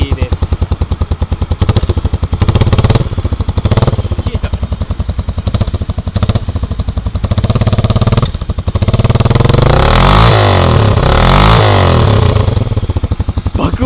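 A custom SR400 motorcycle with its stock muffler shortened and re-welded runs loud and close, with a rapid single-cylinder thump at idle broken by repeated sharp revs and a long sustained high rev near the end.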